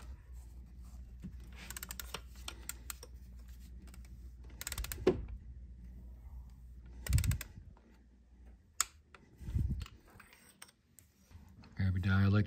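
A torque wrench tightens a fastener to 13 foot-pounds, giving a few sharp mechanical clicks and ratcheting creaks up close amid scattered handling noises and brief bursts of talk.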